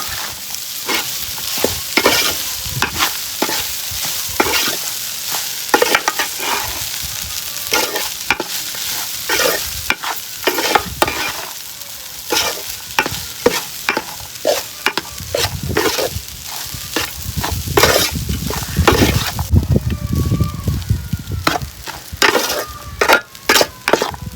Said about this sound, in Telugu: అన్నం వేసి బాగా కలుపుకుందాము.